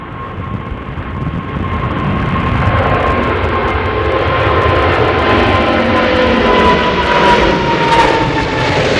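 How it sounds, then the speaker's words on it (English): An airliner climbing out from London Gatwick in stormy, cold weather, its landing gear slowly retracting; a loud, steady broadband jet engine roar with a faint whine holds throughout, with no voices over it. "Oh, it's just taken ages for the gear to come up there."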